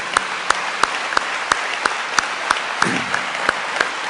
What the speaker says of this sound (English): give a lusty round of applause to all the employees